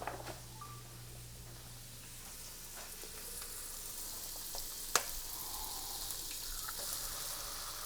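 An egg sizzling and frying in a pan for a breakfast sandwich, a steady close crackling hiss throughout with a few small clicks and one sharp tap midway, no talking.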